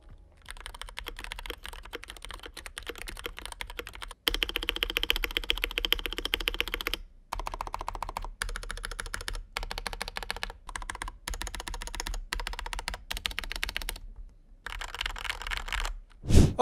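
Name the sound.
Fantech MAXFIT61 mechanical keyboard typing sound test after PE foam mod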